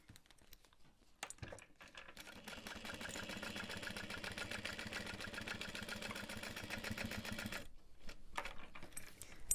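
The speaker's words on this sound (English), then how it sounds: "I'll sew over top of all that. And I like to do 2 rows of stitching." A sewing machine runs steadily for about six seconds, stitching a double row over vinyl on a backpack, with a dense mechanical whir, brief starts and stops at either end, and no talk.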